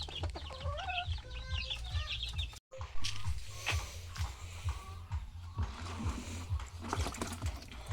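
Hens cluck in repeated short, rising calls as they prepare to lay eggs, close and clear, with a brief dropout midway followed by scattered rustling and softer clucks.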